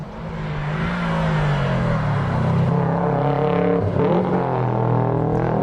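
A 2001 Subaru WRX in the full-drive saloon class at a lakeside hillclimb revs loudly nearby, its engine note rising and shifting through gears with a strong, continuous roar.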